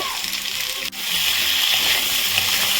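Potato pieces fry with salt in a pan, giving a loud, steady sizzling hiss, briefly broken by a single sharp knock before the frying continues strongly.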